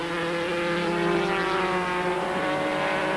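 A Formula 3 race car passes at Diepholz during the 1989 German F3 Championship, its loud engine whine sweeping in pitch as it goes by. A steady engine drone continues underneath.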